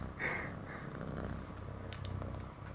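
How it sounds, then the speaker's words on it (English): A cat, heard in a Space Station 13 reaction video, purrs continuously and very close, a rough, rumbling purr with a few faint snorts mixed in and no talking. "Extreme purring right here"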